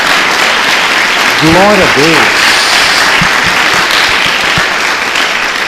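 Loud congregational applause for Jesus at a church service, a dense roar of many hands close by, with a voice briefly calling out over it and a few sharp claps near the end.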